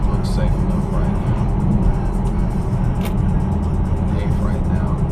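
A 2016 Dodge Challenger R/T ScatPack accelerates through its gears, heard from inside the cabin as a steady, loud, low engine drone and road rumble.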